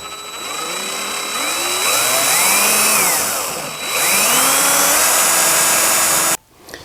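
Battery drill boring a hole for a Bento Box fan mount on a Bambu Lab X1 Carbon 3D printer, a loud whining motor that rises and falls in pitch over several pulses before cutting off abruptly.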